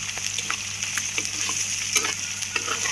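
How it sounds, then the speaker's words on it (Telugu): Curry leaves frying in a pan for a drumstick and brinjal potato curry, a loud continuous sizzle with repeated stirring scrapes of a spoon, no talk. "ఇప్పుడు కరివేపాకు వేసుకుంటున్నామండి."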